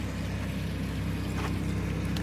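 A water purifying machine runs steadily with a constant low hum and motor drone, close by, with no talking over it.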